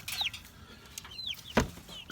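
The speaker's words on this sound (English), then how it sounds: "See the chicks in here?" Young chicks in a heated chicken coop with water and food give a few faint, high, falling peeps, separated by quiet gaps and a couple of soft thumps of movement nearby.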